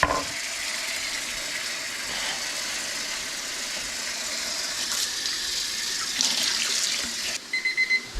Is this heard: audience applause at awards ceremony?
no